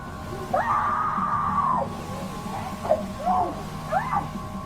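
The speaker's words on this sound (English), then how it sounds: "She lets out yet another scream, this one more intense than the first." A woman screams intensely in a public place among shoppers, one long piercing wail followed by several shorter rising shrieks, loud and close over background murmur.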